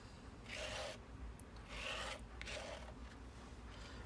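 Chroma Glaze is spread thinly over a stencil on a card in a few faint, slow scraping strokes, each lasting about half a second, heard alone and very quiet.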